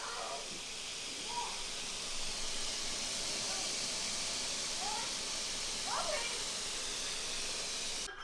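Plant-based vegan dumplings fry in a pan as the water boils off, giving a steady, dense sizzling hiss throughout, with faint voice fragments under it.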